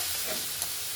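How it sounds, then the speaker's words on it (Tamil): Shredded cabbage for a poriyal stir-fry is sautéed in a hot pan, giving a steady, close hiss of sizzling with one brief clack of stirring partway through. "நல்லா ஒரு 5 நிமிஷம் வேகிற அளவுக்கு நல்லா வதக்க கிண்டிடுங்க"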